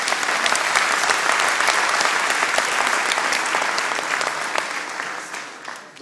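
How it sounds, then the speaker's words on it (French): Sustained applause from a festival audience for an Andalusian music ensemble, loud and dense with many hands clapping at once, then thinning and fading toward the end. "je vous demande de les applaudir à nouveau."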